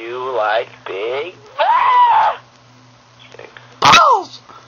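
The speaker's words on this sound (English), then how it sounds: "Did you sneeze?" A person sneezes once, loud and close, near the end of a short exchange, with voices talking and laughing before it over a faint background hum.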